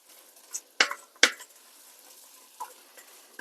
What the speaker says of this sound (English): I'm going to go ahead and put the celery in here.